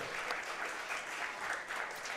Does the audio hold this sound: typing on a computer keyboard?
no